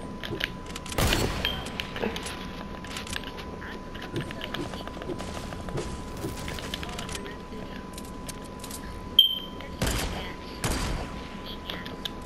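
Gunfire in the video game Fortnite: a few sharp bursts, one early and a cluster near the end, over a steady background with faint voices.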